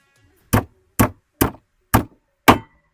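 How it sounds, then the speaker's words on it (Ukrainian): A hammer driving 200 nails into wooden scaffolding boards: five loud, sharp, evenly spaced knocks about half a second apart, each a short dull thwack with quick decay, close and isolated in silence. "не забуваємо для надійності дошки нашої рештовки прибити цвяхом 200 щоб воно тримало"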